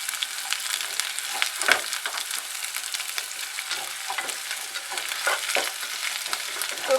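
Raw cumin and cardamom seeds fry in hot oil for pilau, giving a steady, moderately quiet sizzle broken by scattered crackles and occasional stirring scrapes, with no voices.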